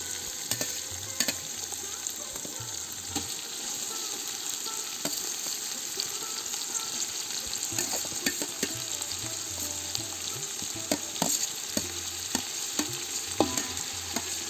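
Tomatoes sautéing with browned onions for a 1.5 kg chicken dum biryani, a continuous sizzle broken by frequent scraping and clinking stirs of a spoon against the pot.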